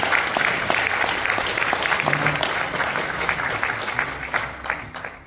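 A congregation at a National Assembly prayer breakfast thanksgiving service in a large hall claps together, a full, sustained roll of hands with sharper individual claps poking through, fading slightly as it winds down.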